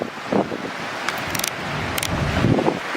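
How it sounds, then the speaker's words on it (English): Wind blows steadily near mountains in California, a continuous rushing hiss with a few gustier swells, fairly close to the microphone and with no one talking. "You just hear the wind all the time."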